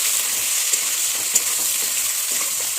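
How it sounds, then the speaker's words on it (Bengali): Ridge gourd pieces frying in oil with green chillies in a pan, a continuous hissing sizzle with faint stirring ticks, steady and close, with no talking. "এখন আমি এগুলোটাতে ঝিঙেগুলো দিয়ে দিচ্ছি এবার আমি একটু নেড়ে চেড়ে নুন হলুদ দিয়ে দেবো"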